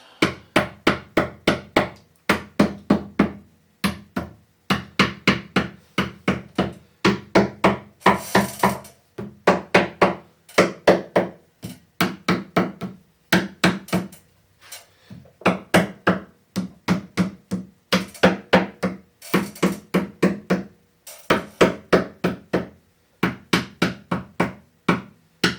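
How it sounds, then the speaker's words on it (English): Repeated hammer blows striking wood in quick bursts of several hits while building an incubator, with short pauses between groups; loud and close, no talking. "Now you want to beat these down with a hammer."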